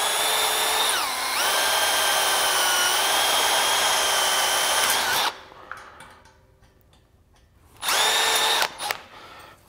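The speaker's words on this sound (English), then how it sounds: "So just with an 1/8 inch drill bit, we'll drill out every one of these," A power drill fitted with a 1/8 inch bit drills out rivets, its loud high whine running steadily for about five seconds, then stopping briefly before a second short burst.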